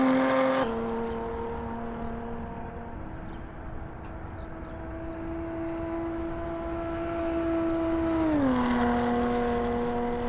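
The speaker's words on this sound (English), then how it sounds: "listen to that exhaust, it's very dirty." A Maserati Levante S exhaust from the Assetto Corsa racing game on the Nordschleife drones at high speed as a steady tonal engine note, sustained and even before dipping in pitch near the end, with no talking.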